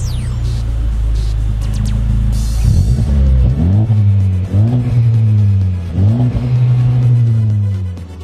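A Honda Civic Type R GT's engine starts with a loud low rumble and settles into a steady idle, then revs and pulls away through several gear changes, each rise in pitch followed by a drop, heard from inside the car.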